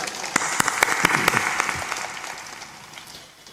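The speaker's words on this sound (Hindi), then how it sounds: "ताली बजा कर" A gathered audience claps together in a brief burst of applause, sharp distinct hand claps over a dense wash that tapers off within a few seconds.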